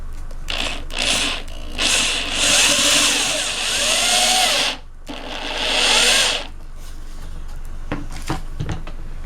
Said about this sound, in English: now we are screwing on the bottom